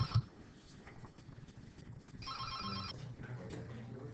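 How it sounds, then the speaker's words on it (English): Telephone ringing in a room, one clear electronic ring burst lasting under a second, quiet and alone amid faint room noise. "I'm going to pause the video to answer that phone"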